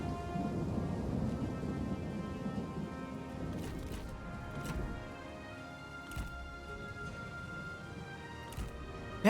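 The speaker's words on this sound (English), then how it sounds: "The minute we get flaming shot, it rains." Steady rain with rolling thunder in a Total War battle, a broad hiss throughout with several distinct thunder cracks and rumbles mid-clip, no talking.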